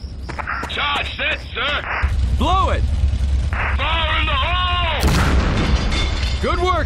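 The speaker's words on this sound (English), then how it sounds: "Get a C4 charge on that tank trap." Heavy explosions and booms from a C4 charge blown on a tank trap in the Conflict: Desert Storm video game, loud and close, mixed with radio-style voices and game effects.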